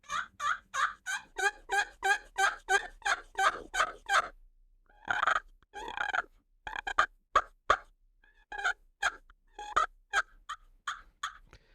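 A copper turkey friction call played with a plastic peg striker: close, rhythmic yelps in a quick run of about a dozen notes, then a pause and looser clucks and purring strokes, with no one talking.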